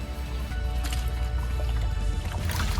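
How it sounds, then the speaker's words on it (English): Water poured out of a bucket after presoaking buffalograss seed, a steady close splashing pour with dripping and sloshing that runs for the whole few seconds, no voices. "So we'll just take this water and dump it out"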